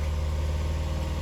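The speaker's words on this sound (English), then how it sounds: "I'm gonna go ahead and start raising the RPM" A Saturn Vue engine with a flashing check engine light runs steadily close by, raised toward about 3,000 RPM with a constant low hum and no clear rise across the brief moment.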